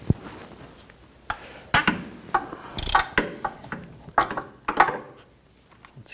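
A ratchet on an extension turns a 36mm socket to loosen the oil filter housing of a 2004-2009 Audi A4 Quattro 2.0L I4, giving several sharp clicking bursts and clanks at close range with no speech.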